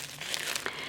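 Slime is squished and worked inside a plastic bag, giving a short burst of soft, quiet plastic crinkles and sticky squelches close to the ear.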